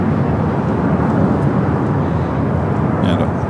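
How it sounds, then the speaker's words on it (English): A Copa Airlines Boeing 737 MAX 9 arriving at LAX from Panama City makes a loud, steady low jet roar that holds level throughout, with faint chatter in the background. "Copa Airlines Flight 360 coming in from Panama City on the MAX 9"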